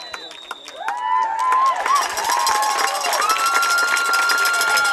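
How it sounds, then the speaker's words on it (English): A high-school football crowd at a Caston vs West Central game screams and cheers for a touchdown, a loud sustained roar of shrill voices building after a brief quieter moment and holding steady throughout. "if you can't tell by the screeches of the crowd, Casey was able to make the yards"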